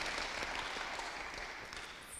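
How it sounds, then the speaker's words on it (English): An audience at a boxing weigh-in and press conference applauds in a steady, even clatter of many hands that stays fairly faint and constant throughout, with no voices over it. "Can I have a round of applause, please?"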